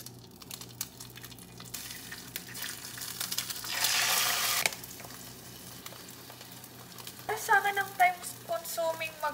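Eggs frying in a pan in a home kitchen: a soft, steady sizzle with a brief louder burst of frying and some stirring or scraping clicks near the end.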